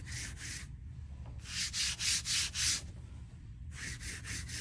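A hand rubs back and forth over a halftone DTF transfer print on fabric, giving soft, rhythmic swishing strokes in short bursts separated by brief pauses, close and fairly quiet.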